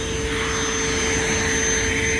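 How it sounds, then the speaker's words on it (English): A vacuum cleaner sucks dust off a kitchen air conditioning unit, giving a loud, steady motor whine and airflow roar that runs unbroken throughout. "I'm just gonna get what I can off with the vacuum"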